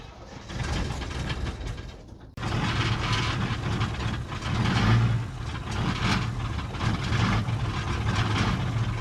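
A 1978 International Scout II diesel engine runs just after a cold start, a loud, steady low clatter and rumble close by that briefly cuts out and then continues evenly.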